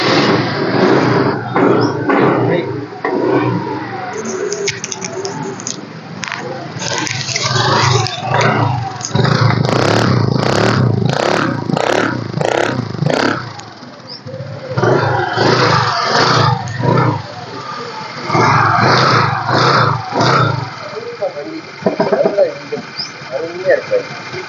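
A used two-wheeler motorcycle in excellent engine condition is started and revved repeatedly, with loud, close engine bursts rising and falling while people talk nearby.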